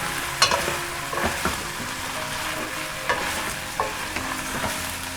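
Bakasi eel and black beans sizzle in a hot pan while a utensil stirs them, with steady frying hiss and soft scraping clinks at irregular intervals.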